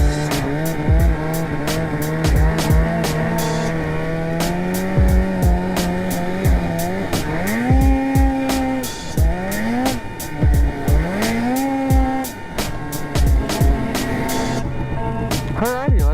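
Polaris RMK snowmobile engine revving and droning up close on a snow ride, rising and falling in pitch with throttle surges, occasional sharp bursts, with faint talk underneath.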